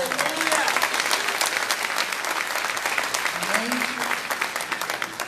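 A congregation at a church gathering applauds in praise of the Lord, a sustained, evenly dense clapping that stays strong across five seconds, with some voices heard underneath.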